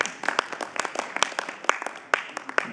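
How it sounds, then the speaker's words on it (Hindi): A small audience from Virginia claps at a Srimad Bhagwat Katha gathering in Delaware, with sparse, uneven individual claps scattered over a few seconds and a faint voice underneath. "वर्जीनिया वाले ही ताली बजा रहे हैं बस।"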